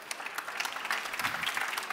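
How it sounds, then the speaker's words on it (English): Conference audience applause after a partner and sponsor session, a moderately loud patter of many hands with some sharper individual claps standing out, continuous for a couple of seconds without speech. "This is your very big round of applause."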